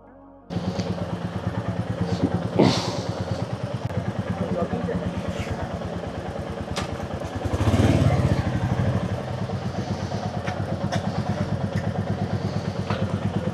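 A Royal Enfield Meteor 350 engine idles with a steady rapid putter, close by in a service workshop, briefly revving louder, with occasional clanks and faint voices around it.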